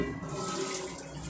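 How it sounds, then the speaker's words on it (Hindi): Water pours steadily into a bottle from a tap, a close, continuous rushing stream with no pauses. "क्योंकि बोतल में पानी भर के रखना है"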